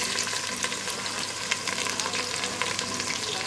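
Chopped onions fry in hot oil seasoned with thyme for jollof rice, producing a loud, continuous close-up sizzle with crackling pops throughout.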